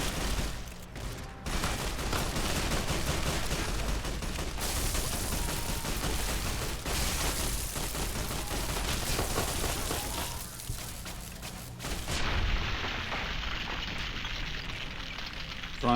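Sustained gunfire from Fallout: A Tale of Two Wastelands, a dense, loud barrage of shots that runs almost unbroken throughout, briefly dipping near the start and again just before the end.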